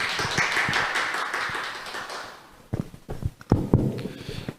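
Audience applause welcoming a lecturer at an environmental education talk: a moderate wash of clapping fades out over a couple of seconds, followed by scattered near taps and knocks as things are handled nearby.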